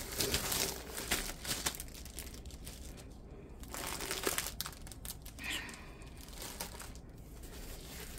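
A Diamond Art Club plastic dust bag crinkles and rustles as it is handled up close, with soft continuous crackling throughout.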